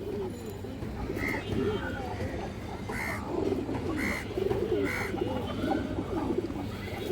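A big black male Sapchila pigeon coos repeatedly at close range on a pigeon farm, rolling throaty calls in a loose rhythm, with other birds chirping and someone talking over it.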